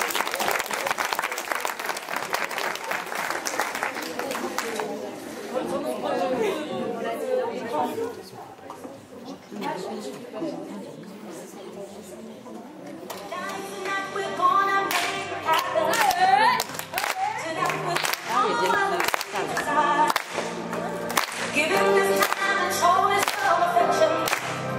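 An audience claps for cabaret performers at an evening show, with loud applause at the start that thins into scattered claps amid voices and chatter, then music and clapping rising again.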